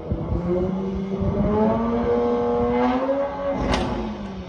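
Mini car engine revving close by, its pitch rising and falling in steady sweeps with a sharp peak near the end, loud and continuous throughout.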